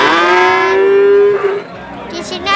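A Simmental bull at a Wirosari cattle market, freshly bathed, lets out one long, loud, drawn-out moo close by, fading into low market chatter.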